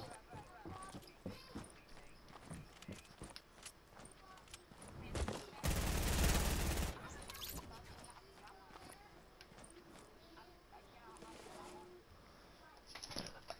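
Gunfire in the video game Fortnite comes as scattered sharp shots and one loud continuous burst near the middle, with footsteps and other game sounds around it.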